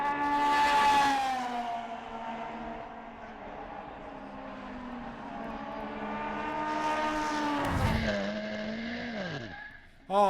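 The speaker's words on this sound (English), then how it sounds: "now it's a spin for Cochet" A prototype race car spins on the Barcelona circuit during a VdeV 2017 race. Its loud engine drones and shifts pitch, then a sharp tire screech and a revving surge come near the end, with faint commentary underneath.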